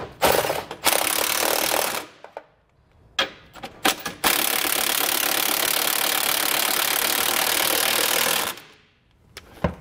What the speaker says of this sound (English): we can go back and tighten them down. We're gonna use a 19 millimeter socket to do so.